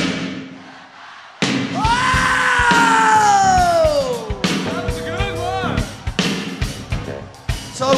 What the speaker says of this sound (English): Cause they are screaming.